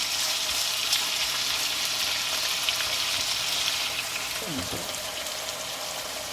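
Turkey pieces brown in a hot pan for curry, giving a steady, moderate sizzle that hisses evenly throughout with a brief low scrape near the end.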